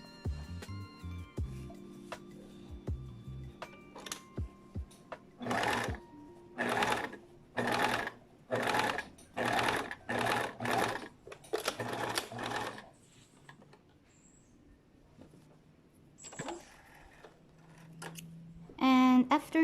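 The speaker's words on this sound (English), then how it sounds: "And I'm going to sew it again so it's more secure." A home sewing machine stitches a thrifted tank top in about eight evenly spaced bursts of close mechanical whirring with short pauses between them. Scissor snips and small handling clicks sound before and after.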